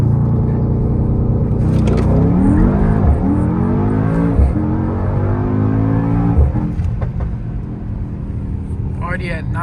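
A Mercedes-AMG GT63S engine on a late-night drive, a loud low rumble that rises and falls through gear changes and revs heard from inside the car, with faint pops near the end.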